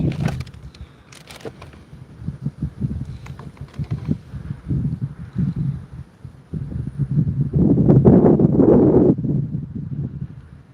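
Gusty outdoor wind buffeting the microphone while someone fishes, with rough low rumbles that swell and fade in uneven bursts and build to a heavy sustained gust near the end.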